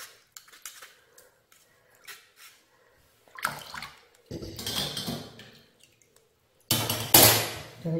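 Liquid poured into a batch of green radish water kimchi, heard as several splashy, rushing pours of varying length separated by quiet gaps, with the last pour the loudest and closest.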